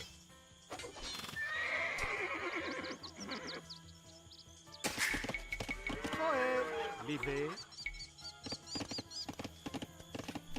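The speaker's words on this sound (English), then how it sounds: "The 2 horses just ran through my house." Horses in the video game Age of Empires 2 whinny loudly twice, each call long and wavering, with hoof clip-clop and busy game effects running beneath the whole stretch.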